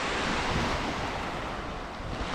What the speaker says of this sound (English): when the waves is just rolling up towards you